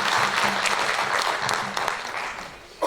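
A conference audience at a World Tourism Day celebration gives a round of applause after a presentation, a steady dense clapping that fills the room and fades slightly before ending abruptly.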